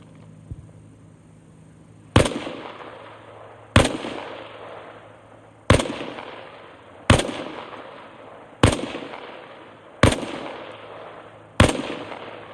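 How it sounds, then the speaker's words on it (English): Seven single rifle shots at targets in the video game Arma Reforger, fired from a kneeling position, each a sharp loud crack with a short decaying echo, spaced about one and a half to two seconds apart. "Try again, only this time fire from a kneeling position."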